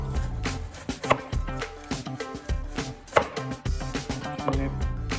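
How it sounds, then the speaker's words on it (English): Vegetables rough-cut on a board for a quiche filling: a run of sharp, uneven knife strikes, close and fairly loud, over a steady tonal backing with no talk. "About time to get some vegetables chopped up for our filling."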